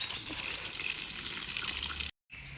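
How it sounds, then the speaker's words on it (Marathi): Water gushes steadily onto heat-wilted garden plants in a continuous close splashing stream that stops abruptly near the end. "चला तिथपर्यंत घालून घेतो जरा असं पाणी"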